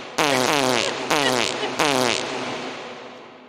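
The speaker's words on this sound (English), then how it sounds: "Like lay on that fart button." Three loud fart sound effects fired in quick succession from a soundboard button, each a buzzy, wavering blast that trails off, with no one talking over them.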